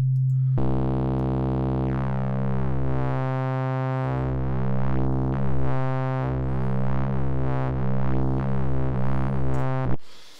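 A steady electronic tone that bends and sweeps in pitch, buzzy and harmonically rich, continuous for about ten seconds before cutting off.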